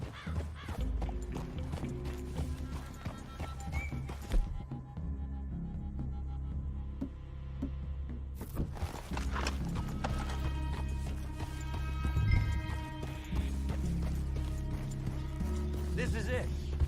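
Horses' hooves clip-clopping in Red Dead Redemption 2, a steady rhythmic walking beat close by with an occasional whinny, a brief lull midway, under a game soundtrack.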